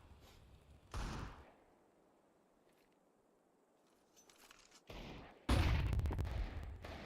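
A flashbang grenade goes off in a Counter-Strike match, heard as two sharp bursts separated by a quiet stretch, the second loud and ringing on for over a second.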